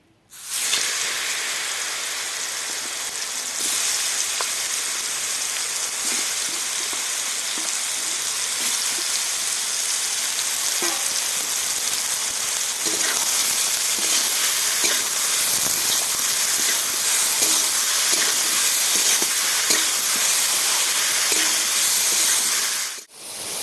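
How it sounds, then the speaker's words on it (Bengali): Wild mushrooms (khor chhatu) frying in a generous amount of hot oil, a steady loud hiss and crackle of sizzling that holds for over twenty seconds without talk. "এবার ছাতাটা ভেজে নেব"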